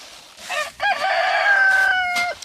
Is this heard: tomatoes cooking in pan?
no